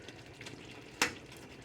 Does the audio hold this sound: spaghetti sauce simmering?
yes